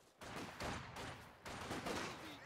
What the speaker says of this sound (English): Enemy fire! We must move!